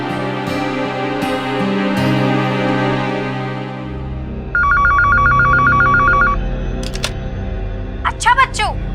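A landline telephone rings with a rapid trilling bell burst amid music and background sound, followed by brief chirps.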